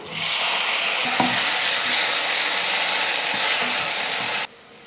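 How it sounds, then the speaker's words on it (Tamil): Green chillies and long-sliced ripe tomatoes sizzle steadily in hot oil while being sautéed for tomato chutney, a close, continuous frying hiss with a couple of faint stirring knocks, cutting off abruptly near the end. "கொஞ்சம் தக்காளியை இந்த மாதிரி நீல நீளமாக கட் பண்ணி சேர்க்கும் போது சீக்கிரமாக வதங்கிடும்"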